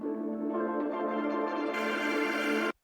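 A guitar turned into a sustained ambient pad with grain delay and shimmer reverb, swelling with dense stacked harmonics and a bright shimmering top added partway through, held steadily before cutting off abruptly; no talking.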